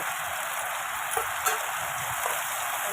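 Chopped onion and tomato fry in oil in a home kitchen pan for pasta, giving a steady, close hiss of sizzling that runs unbroken with a few faint stirring clicks.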